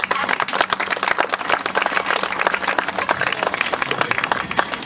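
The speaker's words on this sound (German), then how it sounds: "gebt euch einen kleinen Applaus" Spectators clap for a trick-cycling show of riding over benches, pallets, cars and people, brisk distinct handclaps layered into a lively crowd applause that stays strong and close throughout.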